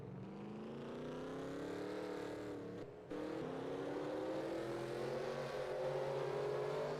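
Race cars leave pit lane during the 2021 Duels at Daytona, with engines droning and rising in pitch as they accelerate. The sound is steady and continuous apart from a brief dip in the middle.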